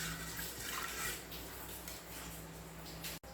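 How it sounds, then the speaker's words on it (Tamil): Water running and splashing onto dried batter in a pan or vessel to soak it, a steady close broadband pour lasting a few seconds before stopping abruptly. "கொஞ்சம் தண்ணி விட்டு வச்சிடலாம்"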